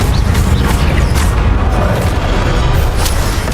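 Fiery Incendio spell blasts in Hogwarts Legacy, a loud, dense roar of booming fire and explosions rumbling continuously throughout, close and heavy with no pause.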